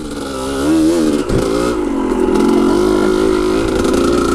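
Motorcycle engine fitted with a Lectron carburetor, lugging along a trail at barely-open throttle, a steady close, continuous low drone with slight rises in pitch and a brief dip partway through.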